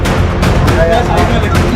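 A few sharp gunshot cracks come from a police or army officer's firearm in a village land dispute in Rajgarh, Madhya Pradesh, several quick reports set close together over a noisy crowded background.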